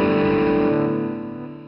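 Electric guitar through a Fairfield Circuitry Barbershop Millennium overdrive and a Reverb G2 pedal, a single overdriven chord ringing out and slowly decaying into a reverb tail, clear and alone.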